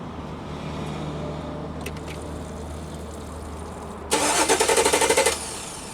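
A 2017 GMC Sierra with a no-start fault cranks its engine in a short burst of rapid, rhythmic starter whirring that follows a quiet stretch of low hum.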